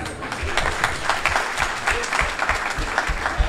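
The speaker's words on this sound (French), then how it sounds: "je demande de l'applaudir encore très fort" An audience claps steadily, a dense patter of many hands at close range, with a faint murmur of voices underneath, at a literary event in Senegal.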